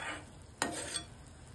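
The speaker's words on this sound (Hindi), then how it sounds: "इसमें उबाला आ गया, इसे 2 मिनट के लिए उबलने देंगे ऐसे ही।" Grape chutney boiling in a pan, a soft continuous bubbling simmer heard close and quiet, with one brief sharper stir or clink partway through.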